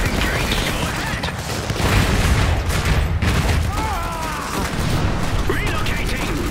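Gunfire and explosions in the video game Iron Harvest, a steady barrage of shots and booms with mechanical clatter, continuous and dense across the whole stretch.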